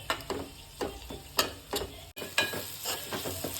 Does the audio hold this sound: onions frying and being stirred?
yes